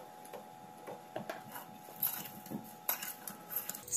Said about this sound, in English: Now mix all the things.